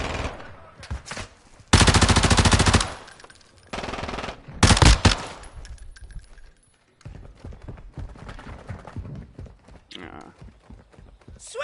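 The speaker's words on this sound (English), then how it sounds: "Taking effective fire!" Automatic gunfire in the video game Modern Warfare 2, loud bursts crackling in rapid strings with scattered single shots, shouted voices and chatter mixed in between.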